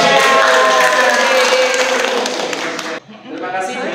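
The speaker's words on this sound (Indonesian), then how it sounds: "Terima kasih tepuk tangan buat kita semua." Audience applause at a teachers' presentation session, a dense steady patter of clapping that drops off sharply near the end, with voices mixed in.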